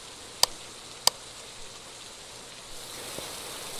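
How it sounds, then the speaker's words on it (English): Rain falls in the ghost-hunting game Phasmophobia, a faint steady hiss with two sharp clicks early on. "And it's raining again."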